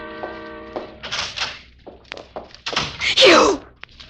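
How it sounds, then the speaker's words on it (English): A radio-drama sound effect of footsteps and a door, heard as a run of close knocks and thumps followed by a heavier door thunk and a brief scraping rush, all alone without speech. "I knew that I would hear steps first, then a door."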